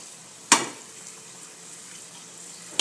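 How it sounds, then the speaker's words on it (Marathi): Tomatoes fry with onions and turmeric in a pan, giving a soft steady sizzle broken by a sharp utensil clink at the start and another at the end. "कांद्यामध्ये चांगलं परतून घ्यायचं आपल्याला टोमॅटो टाक"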